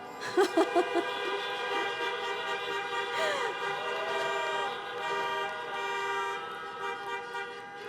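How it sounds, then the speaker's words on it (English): Many car horns honking at once at a drive-in university commencement, a few short toots first, then a long overlapping blare of several horns that holds steady, with scattered voices. "Please honk your horn now."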